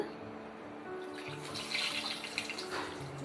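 Water pours steadily into a pan while making rava kesari, with a soft continuous splashing that brightens midway, quiet and close, with no talking.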